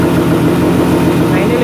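A motorcycle engine held against its pit lane limiter on a racing setup gives a steady, loud, buzzing drone that does not rise or fall across the short span.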